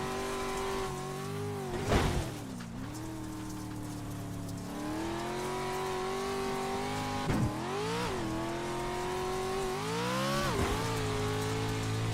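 Short course truck engines in the iRacing sim game roar continuously with rising and falling pitch through gear shifts, with sharp dips and surges as drivers lift and accelerate, loud and close with no talk.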